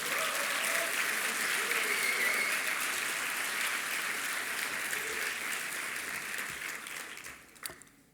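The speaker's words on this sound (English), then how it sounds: "Can we also get a round of applause for them?" A crowd applauds steadily for several seconds, dense clapping that thins and fades out near the end.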